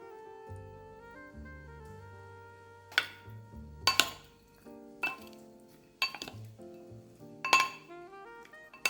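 Red cabbage and pear salad is being tossed with vinaigrette in a bowl, giving a few scattered clinks of utensils against the bowl over steady background music.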